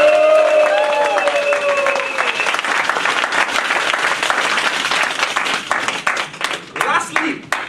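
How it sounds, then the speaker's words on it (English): Loud audience applause fills a hall at a district champion's night, dense clapping continuing steadily throughout with cheers and voices mixed in early on, tapering slightly near the end. "Let's give a round of applause to Sito Waikin!"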